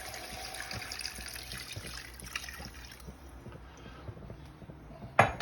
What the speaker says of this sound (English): so I'm going to slowly pour in our 3 cups of vermouth